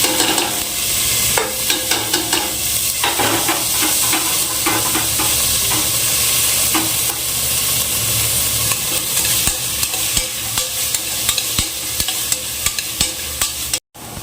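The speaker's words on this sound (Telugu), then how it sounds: "కాజు జీరా కొంచెం ఫ్రై అయ్యాక ఈ వెజిటేబుల్స్ అన్నీ అందులో వేసుకోండి" Mixed vegetables frying with cashews and cumin in a pan for a simple kids' pulao, giving a loud, steady sizzle with repeated stirring scrapes and clinks close by; no one speaks.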